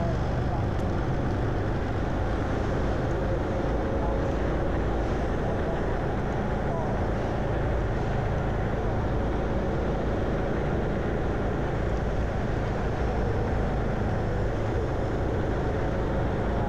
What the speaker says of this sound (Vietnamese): Mình đang đi trên đường bằng xe mô tô hay xe gắn máy các bạn, nên là tiếng hơi ồn.